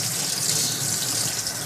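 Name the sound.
water flowing out of a Python Clean and Fill system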